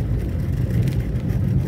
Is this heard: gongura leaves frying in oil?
no